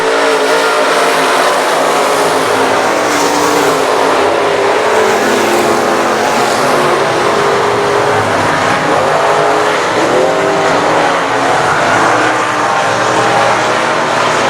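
Stock cars race in a pack at I-37 Speedway, engines roaring loud and steady for the whole stretch with a broad, continuous mechanical drone that never lets up.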